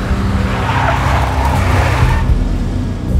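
A big black Mercedes skids in Max Payne with loud, sustained tire squeal and engine rumble close up, easing slightly toward the end.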